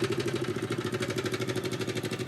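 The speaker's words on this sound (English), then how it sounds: "Literally, this is the first time the car ran with this Joy-Con controller." A million-dollar autonomous race car's engine runs nearby, making a steady, loud drone with a fast rhythmic pulsing throughout the brief span.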